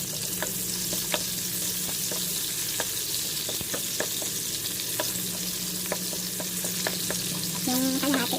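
Garlic and onion frying in a pan, a steady close sizzle with scattered sharp crackles and pops, a brief stirring scrape near the end, no voices.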